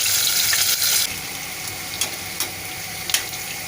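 Potatoes hitting smoking-hot mustard oil, a loud hiss for the first second that settles into a steady softer sizzle with a few sharp pops and spatters.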